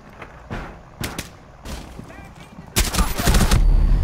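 Gunfire in Rainbow Six Siege during a Bank hostage match, with several sharp, separate shots early on, then a louder, denser burst of firing toward the end that runs under faint background sounds.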